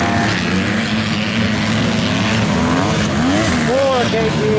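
A KTM dirt bike races past during a motocross event, its engine loud and close with the revs climbing sharply near the end, while a commentator talks over it.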